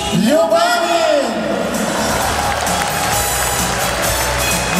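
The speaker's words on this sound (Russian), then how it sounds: "Нет, друзья, это были слабые аплодисменты." Audience applause and cheering at a Teachers' Day concert in Khabarovsk, dense and steady throughout, with a loud voice riding over the start before the clapping settles into a continuous wash.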